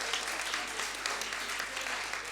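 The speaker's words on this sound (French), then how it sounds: "Donc on peut applaudir les 5 établissements scolaires qui ont participé" Audience at a school pleading-competition prize ceremony applauds the participating schools, a dense, even wash of clapping heard from some distance, fairly soft and continuous.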